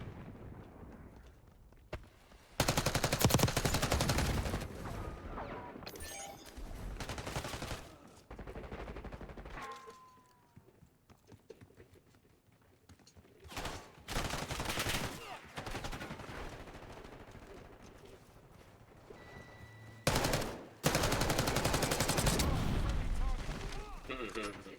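Call of Duty Modern Warfare III battle with repeated loud bursts of automatic gunfire separated by quieter stretches, several sustained volleys near and far, with occasional voices in between.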